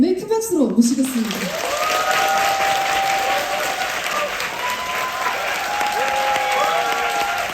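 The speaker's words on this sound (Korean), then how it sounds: "작가님을 큰 박수로 모시겠습니다." Warm applause from an audience welcoming an author onstage at a book event, a broad steady wash of clapping that starts after a brief moment of talk and music, then holds at an even, full level for several seconds.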